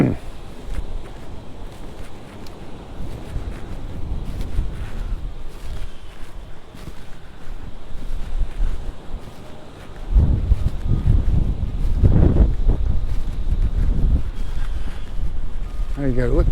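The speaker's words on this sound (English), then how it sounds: "now I'm starting to feel the breeze on my back, the wind" Wind blows across an almost empty beach in Magaluf, Mallorca, in early March, a steady rushing buffet on the microphone that grows stronger partway through, with someone talking over it.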